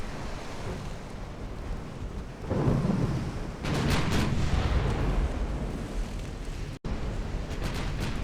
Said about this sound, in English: now we're after the Ector, which just suffered catastrophic explosion